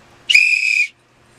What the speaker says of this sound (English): you blow that damn whistle over there